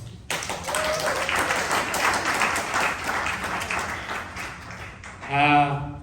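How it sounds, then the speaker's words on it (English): A crowd at a youth entrepreneurship event in Uganda claps for young women entrepreneurs, a steady wash of applause from the room lasting several seconds before a louder burst near the end. "I want us to first clap for them"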